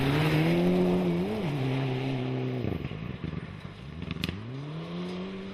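A Group N Subaru rally car on a forest stage of the Cambrian Rally roars past close by, its engine note holding high then dropping and bouncing through gear changes before revving up again, loud and continuous with no talk.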